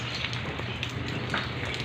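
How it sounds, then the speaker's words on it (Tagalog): Steady rain falls outdoors in an alley during a typhoon, a continuous even hiss of drops at moderate level with no voices over it. "Ay, ang ulan talaga."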